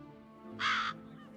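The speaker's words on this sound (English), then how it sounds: "Or no, they're ravens, huh? Lots of ravens." Ravens in The Witcher 3 video game give a single harsh caw over a low ambient background, fairly distant and moderately loud, with faint quieter calls trailing after.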